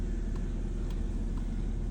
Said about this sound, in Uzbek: Mashina yurib turibdi mana.